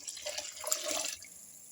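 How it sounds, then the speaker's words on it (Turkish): Hot water poured into a cooking pot over sautéed bitter herb (çiriş otu) for soup, a close, steady splash and gurgle lasting about a second before easing off. "Şimdi üzerine sıcak suyu ekliyorum."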